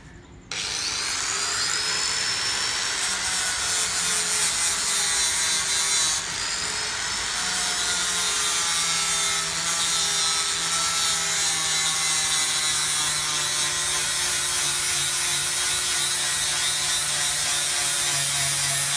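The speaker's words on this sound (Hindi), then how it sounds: "ग्राइंड करता हूँ इसको भी।" A grinder works a rusty cracked panel on the body of a 1996 Honda EK Civic under restoration, giving a loud continuous whine and rasp that runs nearly twenty seconds with slight shifts in pitch.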